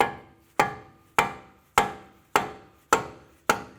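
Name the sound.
dead blow hammer striking CV axle in hub, Acura TL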